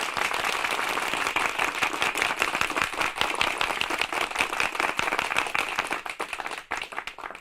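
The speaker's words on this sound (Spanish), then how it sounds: "Yo pediría un aplauso para todos." A hall audience claps together in steady, dense applause that runs loud and continuous, then thins out toward the end.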